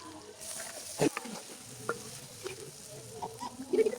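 Spice paste fries in hot oil in a pan at an outdoor picnic, a soft sizzle with a few sharp clinks and scrapes of stirring nearby.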